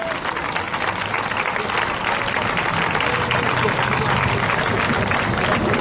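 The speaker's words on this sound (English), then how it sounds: "can we get a round of applause for everyone who put so much into this?" A crowd at a commemorative march applauding steadily throughout, dense clapping at an even level with no pauses.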